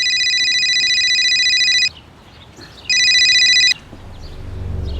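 A telephone rings in two bright, buzzing bursts of just under two seconds each, separated by a short pause, loud and close against a quiet room with a low rumble creeping in at the end.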